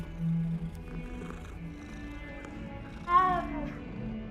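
A cat meows briefly in the Hogwarts Legacy video game, one short rising-and-falling call near the end, heard over quiet game ambience and soft talk.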